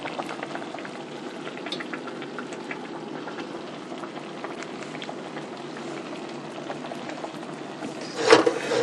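Mbongo tchobi, an African black sauce with onion in the broth, bubbles in a pot on the fire, a steady close simmering crackle and pop with a brief louder clatter near the end.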